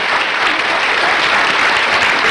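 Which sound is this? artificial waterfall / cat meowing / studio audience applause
studio audience applause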